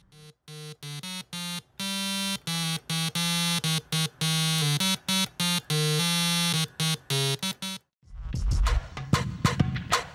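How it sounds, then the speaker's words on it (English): A homemade piano-style tone generator built around an IC555 timer plays a quick run of loud, buzzy electronic beeps at changing pitches, each clipped short, before ending in a burst of rough noise. "make your own DIY piano or a tone generator using IC555 timer"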